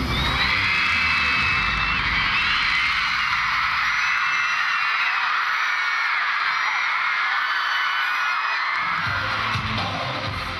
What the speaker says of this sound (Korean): 폭발적인 환호성과 함께